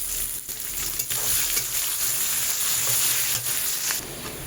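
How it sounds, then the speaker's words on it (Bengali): Chopped onions added to hot oil with browned ginger and garlic for a pui greens dish, giving a loud, dense, continuous sizzle with a few faint stirring knocks, close by and with no one speaking. "এইবার আমি যে পেঁয়াজগুলোকে কুচিয়ে রেখেছি সেই পেঁয়াজটাও আমি এতে দিয়ে দিচ্ছি"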